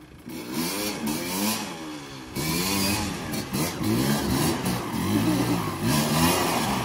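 A motorcycle engine that has been soaked in water runs with a fluctuating, revving mid-range drone, close and fairly loud, surging in waves throughout with no talking over it.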